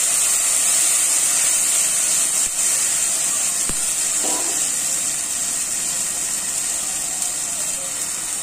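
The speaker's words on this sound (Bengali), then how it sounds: "এখন পানি দিয়ে দিচ্ছি।" Water hits a pan of fried onions, setting off a loud, continuous steamy sizzle and hiss that holds steady close up, with a few small clinks.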